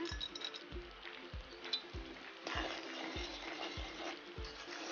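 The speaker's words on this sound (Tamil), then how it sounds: "நாங்கள் இனி அடுப்பை மூட்டி இந்த ஏலக்காய் இருக்க வறுப்போம்" Cardamom pods roasting in a dry pan on a lit stove, with a steady low sizzle and soft rattling of pods, and regular dull knocks as the pan is stirred or shaken, heard close and alone.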